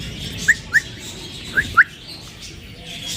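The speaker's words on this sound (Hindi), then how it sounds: "देखो कैसे सीटी मारता है" A pet parrot gives short, bright whistled chirps, four quick notes in two pairs, close by over a steady background hiss.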